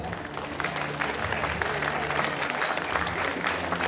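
Audience at a cosplay parade on stage at a geek convention in Roanne applauds a Venom cosplayer, a steady wash of clapping from a crowd that holds evenly throughout.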